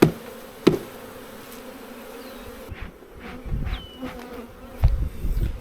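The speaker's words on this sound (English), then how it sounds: "So I'm going to shake all the bees off." Honeybees buzz steadily in a low drone as they are shaken off a hive frame of brood, with a few sharp thumps and knocks as the frame is shaken; a couple of bees zip past close by.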